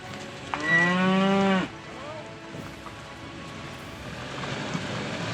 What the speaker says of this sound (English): After a brief cow encounter